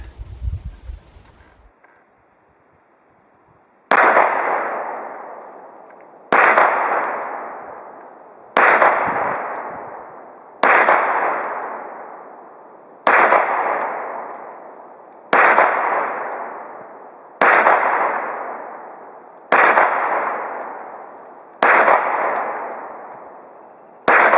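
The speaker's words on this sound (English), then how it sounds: "Winchester 124 grain NATO ammo seems to be working okay in this thing. I'm going to shoot for accuracy on this target." A Remington RP9 pistol fires Winchester 124 grain NATO ammunition at a target: nine sharp, loud shots spaced about two seconds apart, each ringing briefly before the next, with a quiet stretch at the start.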